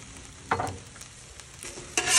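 Chicken tortellini with baby spinach and grated Parmesan is stirred on a Blackstone griddle, and a spatula scrapes the hot surface in a few separate strokes over a soft sizzle.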